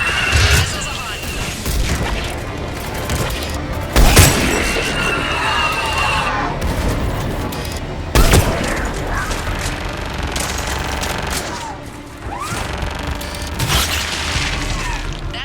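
Missile barrage fired in Mass Effect 3, a dense, loud stretch of booming blasts and crashing impacts with sharp peaks around four and eight seconds, under continuous game noise and some voice.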